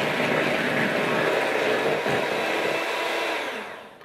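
Egg yolks are whisked for Italian tiramisu, most likely with an electric mixer. A loud, continuous whirring motor drone holds steady, then fades out near the end.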